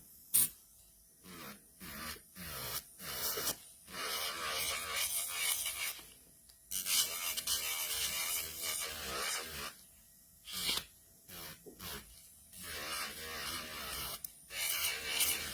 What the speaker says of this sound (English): the one I'm using here is our medium sanding band